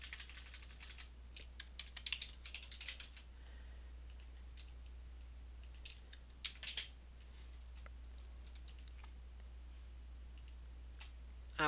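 Mouse and keyboard clicks on a computer while building a page in Oracle APEX 4.2.4, a scattered run of light, close clicks and taps, quiet and with no talking.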